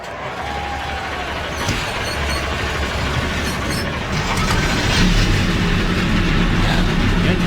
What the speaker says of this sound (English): Engines are fired. These trucks are rolling off.